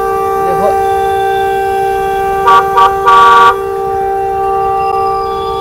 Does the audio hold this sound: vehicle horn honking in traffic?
yes